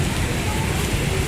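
Steady rain on a wet day in the Philippines, falling as a continuous broadband hiss with dense patter at close range, fairly even in loudness and with no voices over it.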